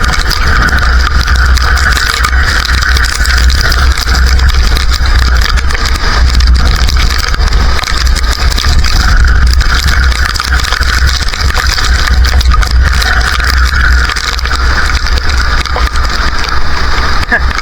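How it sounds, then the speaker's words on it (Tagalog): Loud, steady roar of strong typhoon wind buffeting outdoors, with a constant low rumble of surf and waves underneath, continuous throughout. "malakas malakas ang hangin ang alon"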